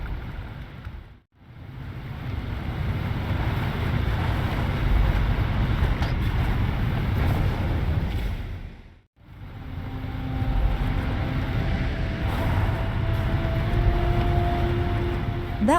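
A ground vehicle driven across terrain in the video game Starfield, giving a steady low rumbling drone with wind-like noise and faint tonal whines, cut by two brief silent gaps.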